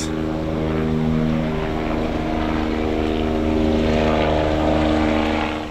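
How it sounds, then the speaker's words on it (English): Loud, steady droning whir of helicopter rotors overhead, with a sustained low engine hum and no talking. "a distinct whirl of helicopters overhead"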